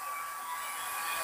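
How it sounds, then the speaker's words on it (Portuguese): A hair dryer runs on low speed, powered by a cheap off-grid solar inverter, giving a steady, faint, even whoosh with a soft high whine throughout the short stretch. "Secador aí ligado."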